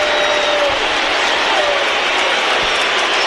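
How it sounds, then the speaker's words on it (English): A large crowd boos loudly through a Mets versus Yankees baseball game, a dense, continuous roar of sustained jeering that holds steady without letting up. "So you don't hear clapping. You hear boos. That sound cuts through."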